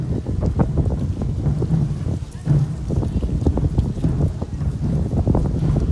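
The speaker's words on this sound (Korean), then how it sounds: "아 바람 진짜 세네" Strong gusts of wind roar and buffet the microphone steadily throughout at an outdoor university festival, a loud, continuous rumble with faint talk mixed in.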